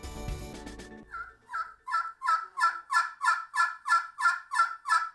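A custom soundboard turkey call imitates a hen with a steady run of about a dozen evenly spaced yelps, following a brief burst of music.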